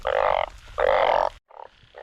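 Bullfrogs croak loud and close during rain in Laos, with two long buzzy calls followed by a shorter, fainter pair of croaks.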